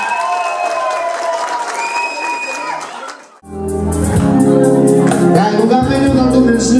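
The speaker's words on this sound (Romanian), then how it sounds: "Aplauze pentru cei mai frumoși." Wedding guests at a Romanian wedding break into applause and cheering mid-stretch, after a voice over background music; crowd noise then continues loud alongside the band.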